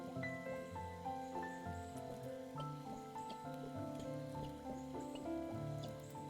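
Rain falls in the video game Chicory, a steady patter of drops over a gentle musical backdrop of sustained tones, continuous and calm with no talk.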